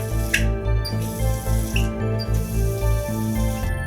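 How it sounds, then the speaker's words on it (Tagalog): A household water tap gushes into a sink as it is repeatedly turned on and off, the loud running water surging and breaking off in short, uneven bursts, with a steady hum underneath. "Ang mga gripo, paulit-ulit niyang binubukas-sara."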